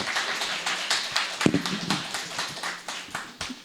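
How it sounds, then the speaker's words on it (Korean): A symposium audience at Kookmin University's Korean Peninsula Future Research Institute gives moderate applause, separate claps crowding into a brisk patter that holds steady and then thins out. "여러분 큰 박수로 맞이해 주십시오."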